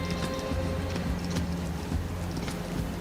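A dressage horse cantering through tempo flying changes at a world championship arena: steady, rhythmic hoof beats in a continuous, dense mix of arena noise, fairly loud and without clear speech.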